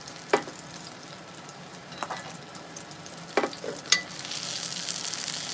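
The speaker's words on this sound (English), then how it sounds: "We'll just continue to baste." A dry-aged steak basting in a pan with garlic and rosemary gives a quiet, continuous sizzle broken by a few sharp spoon scrapes and spatters.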